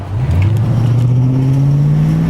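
A Nissan Cima Y32 V8 engine revs up close and loud, a deep rumbling growl rising steadily in pitch after a quick blip.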